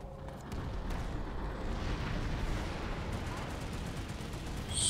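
Dense gunfire and rumbling explosions in a squad-based shooter game, a busy continuous wash of shots and blasts with a sharp crack near the end, voices faintly present beneath.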